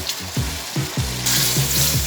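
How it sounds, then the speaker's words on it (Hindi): Tomato masala for dhaba-style mash daal sautéing in a pan gives loud sizzling and bubbling with a few wet stirring scrapes, rising to a stronger hiss in the second half. "हम इनकी थोड़ी सी बुनाई करेंगे टमाटर की, ताकि अच्छे से नरम हो जाए"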